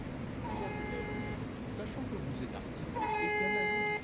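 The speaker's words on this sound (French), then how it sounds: "Voilà, un gros coup de klaxon." A bus horn sounds in the driving game TheBus: a short tonal honk, then a longer, louder blast a couple of seconds later, over low engine and road drone.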